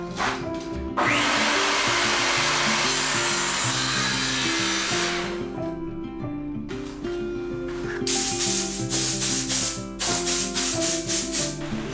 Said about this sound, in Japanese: 板を切っていく。